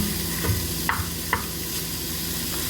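Ground beef frying in a pan for chili, a steady close sizzle and hiss with a couple of sharp clinks from stirring.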